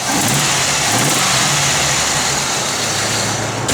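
A 1964 Buick Skylark convertible with a Wildcat 355 V8 revs hard and loud at close range, a sustained throaty engine roar filling the whole moment.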